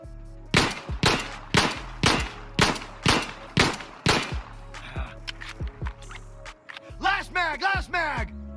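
Pistol shots ring out in Insurgency: Sandstorm as sidearms fire at range targets: seven sharp, evenly spaced cracks with echoing tails, then a pause and reload clatter, followed by a rapid cluster of quick shots.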